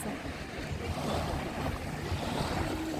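Sea waves wash steadily in a continuous broad rushing noise, with wind mixed in and no distinct individual breakers, at a beach in Odesa.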